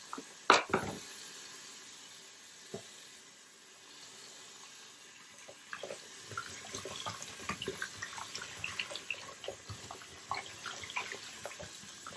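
Tap water runs in a kitchen sink during meal preparation, a faint steady rush with scattered clinks and splashes building toward the end, close by and without talk.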